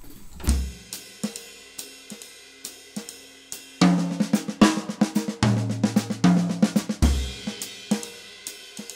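Jazz drum kit fill on a close-miked set, scattered snare, tom and cymbal hits building into a busier rolling flurry of strokes, played alone without talk.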